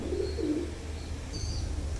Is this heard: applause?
no